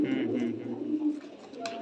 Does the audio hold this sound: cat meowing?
no